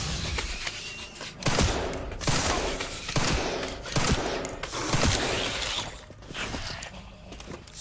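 Gunfire in the video game Resident Evil Requiem: a string of sharp shots and thuds, some in quick bursts, with mechanical clatter and movement between them, fairly loud and close.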